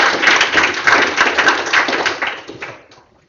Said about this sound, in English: And please give a round of applause for Ruben.